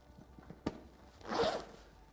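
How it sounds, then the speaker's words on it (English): A travel bag being zipped shut, a single close tick followed by one smooth drawn-out zipper pull about half a second long, fairly quiet, with no talking. "Zip it up."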